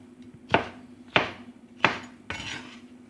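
A knife chops through snake gourd into pieces on a board, four separate sharp cuts spaced about half a second apart, close and clear, with no voices.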